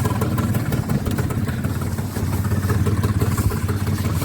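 A 2002 Peugeot Looxor 50cc moped's small air-cooled engine idles up close, a busy buzzing putter with light clattering, steady and loud throughout with no talking.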